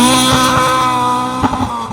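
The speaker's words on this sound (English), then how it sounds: "rasping along up the hill. Sounds great, that car, doesn't it?" Ford Escort MK2 rally car accelerating uphill on a rally stage, its engine rasping loud and steady with strong harmonic tones and a brief roughening near the end.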